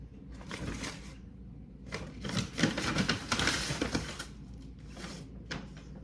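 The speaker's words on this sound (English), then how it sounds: "You can kind of hear a crinkle." Dried herbs crinkle and rustle inside a paper bag, several close, dry bursts of crackling separated by brief pauses.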